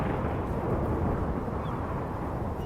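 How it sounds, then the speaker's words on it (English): A steady low rumble of thunder in the video game Submerged, broad and continuous, moderately loud and unbroken, rolling throughout with no speech over it. "It's thunder and lightning."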